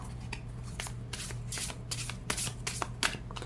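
Tarot cards shuffled by hand, a run of soft riffling flicks and sharper card slaps at an uneven pace, fairly quiet and close over a low steady hum.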